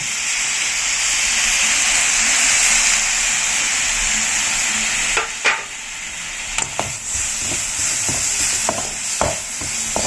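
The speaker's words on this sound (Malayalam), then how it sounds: "തക്കാളിയും കൂടെ ചേർത്തിട്ട് കുറച്ച് സമയം കൂടെ ഒന്ന് വഴറ്റി കൊടുക്കാം" Tomatoes sautéing with spice masala in a pan while bread kothu is being made. A loud, steady, close sizzle runs throughout, and in the second half irregular scraping and stirring knocks come through, with no talking.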